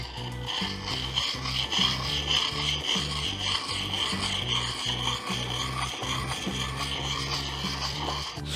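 A woodworking chisel's bevel is rubbed in circular strokes across a flat sharpening stone, giving a steady, close rasping scrape with a repeating rhythm and no pauses.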